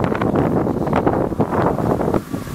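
Strong wind blows around an outdoor chimney of a wood stove, buffeting the microphone with loud, continuous rumbling gusts and rustling that rise and fall in waves.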